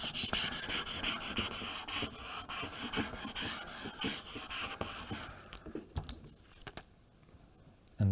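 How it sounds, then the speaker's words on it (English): Scraper tool burnishing vinyl onto transfer tape while a vase is personalized with a Cricut: close, steady rapid scratchy rubbing strokes, moderately quiet, thinning into sparser scrapes near the end. "I'm going to use my scraper tool just to make sure we've got all of the design done"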